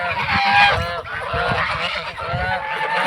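Domestic geese honk repeatedly on a family farm pond, loud, overlapping nasal calls from several birds close by with no talk over them.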